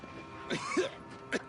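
A character in The Outer Worlds 2 gives a few short, rough coughs, quiet and close, separated by brief pauses.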